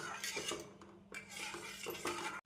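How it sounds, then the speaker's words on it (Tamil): Urad dal batter is stirred in a pot on a stove over medium flame, with faint, repeated scraping and clinking of a metal spoon against the pot in an uneven rhythm. "அடுப்பை மீடியம் ஃப்ளேமில் வைத்து கைவிடாமல் கிளற வேண்டும்"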